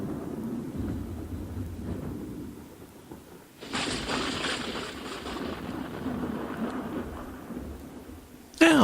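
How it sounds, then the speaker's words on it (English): A rolling rumble of thunder swells partway through and lingers as a loud broad roar over steady rain, ending with a brief sharp noise. "a little bit of thunder there"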